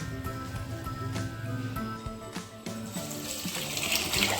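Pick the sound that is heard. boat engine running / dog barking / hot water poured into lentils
hot water poured into lentils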